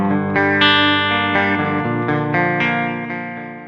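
A guitar riff loops through a Boss effects pedal, sustained chords with a wobbling, chorus-like shimmer and slight grit, steady and fairly loud with no voices.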